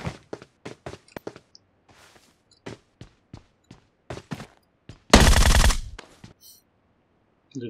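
Gunfire in the mobile game PUBG Mobile: a string of sharp single shots at uneven intervals, then a loud half-second burst of rapid automatic fire, followed by a couple more shots and quiet.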